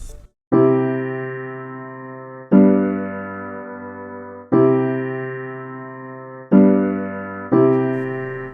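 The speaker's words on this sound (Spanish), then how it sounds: "Y ahora ya sí, escuchamos el piano." Sampled piano chords from an SFZ soundfont in MuseScore, struck one at a time, five sustained chords each ringing and slowly decaying before the next, clear and alone with no talking.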